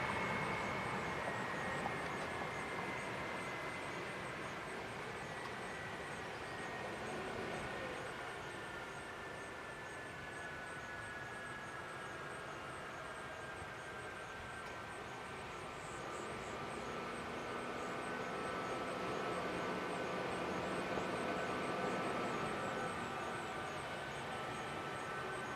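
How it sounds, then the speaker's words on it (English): Boeing 757 jet engines at Milwaukee's General Mitchell airport give a steady, far-off roar with a rising whine, swelling slightly toward the end, heard alone without talk. "Oh, I can start to hear the 757 engines."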